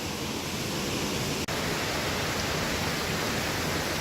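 The Economy Falls waterfall roars as a loud, constant broadband rush, close and unbroken, with no voices.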